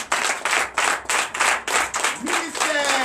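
A church congregation at a Sunday service in Comè, Benin, claps loudly in rhythmic bursts, roughly three per second, with a voice speaking over the clapping toward the end.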